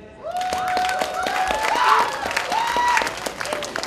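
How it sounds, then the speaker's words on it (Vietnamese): Audience applause at a Vietnamese graduation ceremony, steady broadband clapping that swells for a few seconds, with a sustained musical tone gliding over it. "chúng ta sẽ dành một tràng pháo tay đến với giáo viên phụ trách bộ môn cô Lê Thanh"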